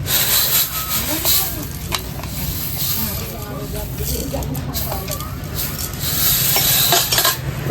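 Avakaya mango pickle being mixed by hand with chili powder and mustard, a continuous close rubbing and stirring texture, under talking throughout.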